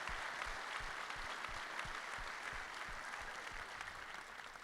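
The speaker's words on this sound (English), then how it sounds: "And another round of applause for our Stamford Police Department for keeping us safe and being here tonight." Steady applause from a town hall meeting audience in Stamford, a dense wash of many hands clapping at even loudness throughout, with no voices above it.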